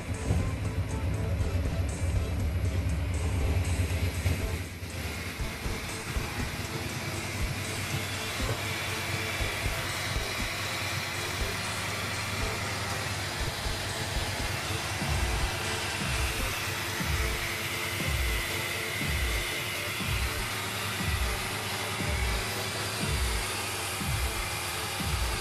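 Electric fuel pumps on a Vanagon T3 run with a steady whirring hum that fills the front fuel reservoir, a low rhythmic pulsing appearing midway and continuing under the constant drone, close and moderately loud.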